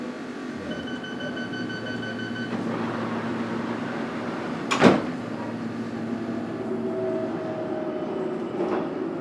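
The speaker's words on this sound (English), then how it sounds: "This is an all-stations Metropolitan line train to Amersham." A London Underground Metropolitan line train hums steadily on board after leaving Moor Park, a low continuous rumble with a sharp clunk midway and faint tonal whine.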